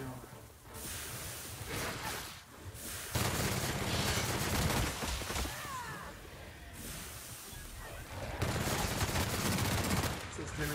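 Gunfire in The Outer Worlds video game rattles in rapid bursts and sustained volleys, with dense crackling shots that pause briefly and then resume, loud and continuous with no talking.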